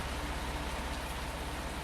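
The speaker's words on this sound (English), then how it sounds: "And it's starting to rain." In the Farming Simulator 19 video game, rain begins falling as a dense, steady hiss of drops that stays constant and fairly loud across the short stretch.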